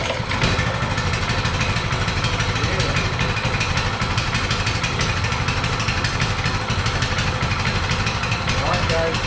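A Coleman mini bike engine idles steadily on its first start with fresh oil and the choke on, a loud continuous rough putter close by that holds even throughout.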